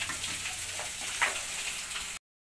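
Pork sisig fries and is stirred in oil on a busy cooking setup, giving a soft, continuous sizzle with light ticking scrapes, fairly faint, before the sound cuts off abruptly.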